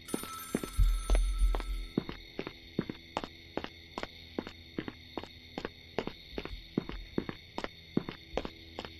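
A telephone rings over and over in a horror video game, with sharp regular bell pulses repeating steadily at a moderate distance. Low rumbling thuds sound at the start, and no one speaks.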